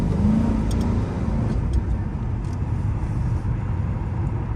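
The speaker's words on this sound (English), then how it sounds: "Like, I tap the gas, and then I get off of it, then I get back on it. You can hear all of that" Car engine in an R/T idling and revving under light throttle taps, a steady loud drone from inside the cabin with subtle swells as the gas is pressed and released.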